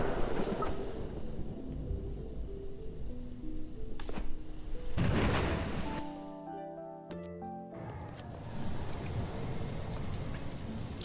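Steady rain from a thunderstorm in the game Little Goody Two Shoes, a constant hiss broken by a brief sharp crack near the middle and a short quieter gap with soft musical tones.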